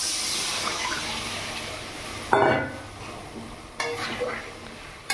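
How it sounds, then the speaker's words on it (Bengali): Water is poured onto cooked-down, oily spice masala for bhetki fish curry, making a sudden loud hiss that gradually fades, followed by a second, smaller splash and sizzle. "তো এখানে আমি জল দিয়ে দেবো।"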